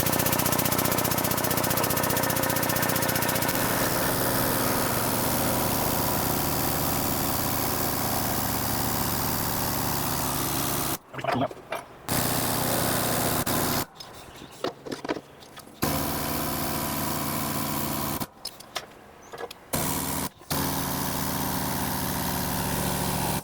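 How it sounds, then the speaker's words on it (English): An air jack drives a broach through a bushing with a loud, continuous pneumatic mechanical drone that cuts off abruptly several times in the second half. "I'm going to use this air jack. It's the first time I've used this for broaching."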